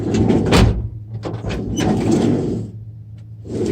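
A sliding side door on a Mitsubishi L400 van rolling along its track, with two loud bursts of clatter and rumble separated by quieter mechanical movement, close by and without speech.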